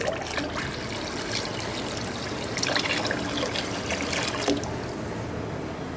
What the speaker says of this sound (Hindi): तो इसके लिए हम अपनी कढ़ाई में पानी डालेंगे।